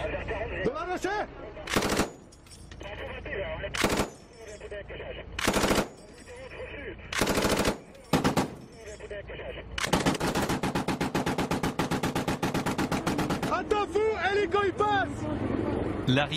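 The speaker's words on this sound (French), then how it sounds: "Slavo a pris en charge la mitrailleuse lourde de son véhicule" A heavy machine gun mounted on a French Foreign Legion armoured vehicle fires repeated short bursts separated by pauses, then one long sustained stream of rapid shots, loud and close.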